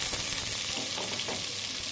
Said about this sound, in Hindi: अब मैं इसको फ्राई कर रही हूँ।